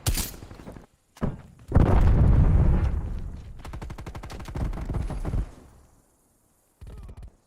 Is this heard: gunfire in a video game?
yes